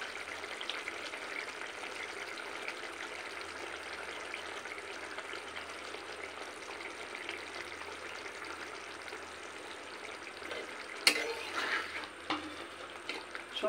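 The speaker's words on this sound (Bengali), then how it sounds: "তো আমাদের ঝোল খুব সুন্দরভাবে ফুটে উঠেছে। এখন দিয়ে দেব পিস করে রাখা অমলেটের টুকরোগুলো।" Omelet pieces are dropped into boiling egg curry gravy, which gives a steady soft bubbling and simmering hiss until a brief clatter and splash as they go in.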